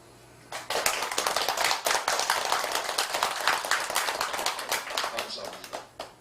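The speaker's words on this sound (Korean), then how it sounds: "이 박수 소리가 참 배가 고팠어." An audience claps at a Buddhist dharma talk during a memorial ceremony for the dead at a Korean Seon meditation temple. A burst of many hands starts sharply and carries on steady and dense for several seconds, close and full, thinning slightly at the end.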